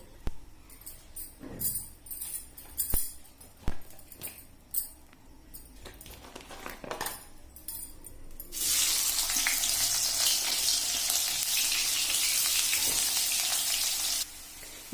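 Sliced onions hitting hot oil in a kadai to fry into beresta for morog polao: after scattered clatter and handling noises, a loud, dense, continuous sizzle starts and holds steady close by.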